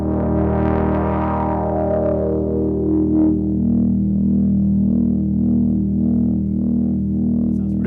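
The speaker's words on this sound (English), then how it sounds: "And then a distortion to kind of glue everything together" Quord drone synth playing sustained chords through distortion, a thick buzzing drone with a resonant filter sweep rising and settling, continuous and loud without voices.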